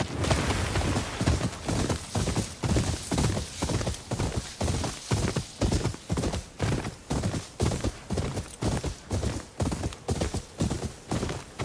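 Steady, close hoofbeats of a horse clip-clop at an even walking pace in the game Ghost of Yotei, loud and continuous with no talk over them.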